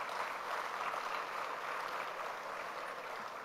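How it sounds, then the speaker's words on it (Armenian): An audience applauds donors at a political party event in a dense, sustained wash of clapping that stays steady and moderately loud from start to finish. "կարծում եմ արժի, որ մենք ծափահարենք մեր այսօրվա հարգելի նվիրատուներին"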